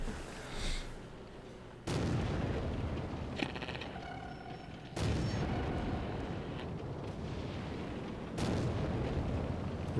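Semovente tank gun in a video game firing in loud, heavy booms, about three separate blasts spaced a few seconds apart, each followed by a rumbling tail of battle noise.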